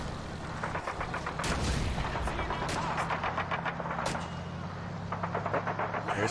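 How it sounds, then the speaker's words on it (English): M1 Garand rifle fire crackles through a Men of War: Assault Squad battle on the Rhine in 1944, with several sharp shots rising over a steady rumble of distant combat noise. "There's somebody firing with an M1 Garand."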